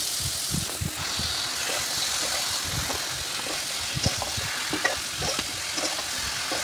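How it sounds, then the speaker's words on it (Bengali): Mixed vegetables for a chorchori stir-fry in a pan, giving a continuous hissing sizzle broken by frequent soft stirring clicks and scrapes, close up and without speech. "এই সবজিগুলি ভালোভাবে কষাবো"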